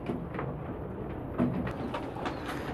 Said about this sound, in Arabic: معانا الثلاث كراتين دول آه، فيهم مجموعة زغاليل وشباب آه، كويسين جدا